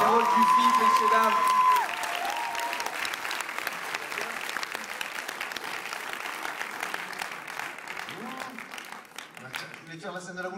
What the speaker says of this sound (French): Et la boulangère, vous pouvez applaudir.